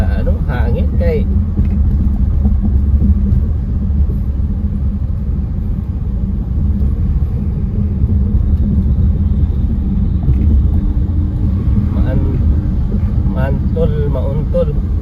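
A motorbike riding fast along a city road at night, heard as a loud, steady engine and wind rumble that runs the whole way through, with voices talking over it.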